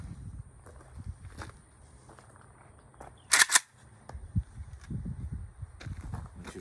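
A Norinco 84S rifle fires a single sharp, close shot outdoors, set against soft rustling and shuffling steps.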